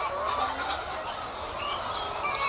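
Laying hens cluck and call together inside a poultry farm, a steady close flock murmur with scattered sharper squawks and no talk.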